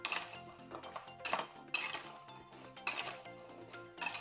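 Spoon clinking and scraping against a bowl while mango pickle ingredients are mixed with oil, a run of irregular metallic knocks and scrapes at close range with soft music underneath, no speech.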